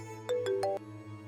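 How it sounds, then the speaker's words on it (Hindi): A mobile phone ringtone plays four quick melodic electronic tones in a short rising pattern, fairly faint over a steady low hum, with no voices. "बेटा, तुम्हारा फोन बज रहा है, उठाओ तो सही"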